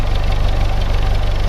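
A CJ2a Jeep's L134 engine runs on test with a steady, loud, close rumble and a rhythmic knocking pulse throughout.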